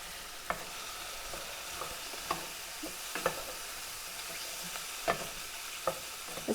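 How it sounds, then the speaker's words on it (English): Chicken burgers frying in a pan make a soft, continuous sizzle, joined every second or so by faint clicks and taps of a utensil, with no voices. "So these burgers will now cook for 5 to 10 minutes till they are thoroughly cooked in the center."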